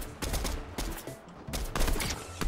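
Gunfire in the video game Fortnite: loud, close bursts of rapid shots in several clusters with brief gaps between them, alone without talk.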